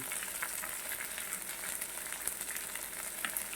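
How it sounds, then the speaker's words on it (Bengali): Garlic fries in a pan with a faint, steady crackling sizzle and scattered small pops, heard close up and alone with no talking. "রসুনের ভাগটা একটু বেশি দিচ্ছি রসুনটা বাজা বাজা হয়ে আসছে"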